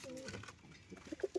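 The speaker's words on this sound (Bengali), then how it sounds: "ও আমার বাড়ি চলে এসছে পায়রাটা" A female pigeon coos a few short, soft times near the end, after a murmur of low background sound.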